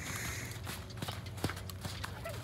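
Horse hooves clip-clopping at a walk during an eventing riding lesson, a quiet steady series of soft hoof strikes on the arena ground with faint background sound and no talk.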